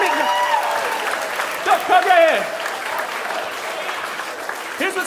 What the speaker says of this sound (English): everyone round applause for Bill